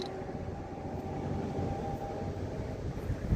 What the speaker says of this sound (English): Oh, shit, here comes a train. Cool, let's record the train.